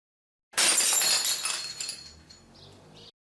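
A porcelain cup thrown in anger smashes on the floor with one loud, sharp shatter, then fragments tinkle and skitter briefly before fading.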